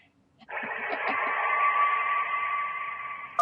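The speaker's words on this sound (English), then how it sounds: "That was a phone ringing underwater." Underwater phone ringing sound effect from the video game Kentucky Route Zero: after a short pause a steady, muffled, whooshing wash begins, with a thin tone running through it, heard down a narrow telephone line.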